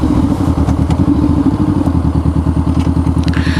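A Honda CBR500R motorcycle rides at night, its engine giving a loud, steady, rapidly pulsing drone close up throughout, with no speech.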